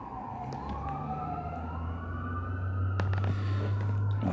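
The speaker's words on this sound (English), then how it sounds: "That was an ambulance." An ambulance siren wails steadily outside, its pitch sweeping up and down. It is moderately loud over a low, constant vehicle rumble, and nobody speaks.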